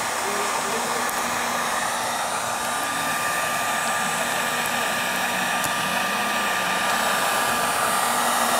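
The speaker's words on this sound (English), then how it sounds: "Just using my heat gun." A heat gun blows hot air onto a car window fitted with a rear defrost kit, giving a continuous, even, close whooshing hum throughout.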